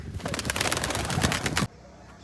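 Racing pigeons burst into flight on release, a loud, dense flurry of flapping wings that stops abruptly after about a second and a half, leaving near silence.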